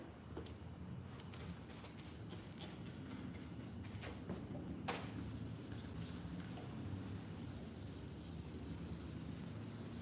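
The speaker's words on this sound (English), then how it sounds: "Just sanding on the panel lightly, not too much pressure." A car body panel is hand sanded with light pressure in a workshop, giving a continuous soft rubbing scrape with faint ticks and clicks over a quiet room hum.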